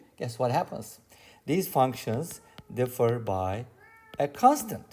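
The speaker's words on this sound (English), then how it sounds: "That's my cat in the background" A pet cat meows in the background during a maths lesson, with short plaintive calls partly masked by someone talking steadily over them.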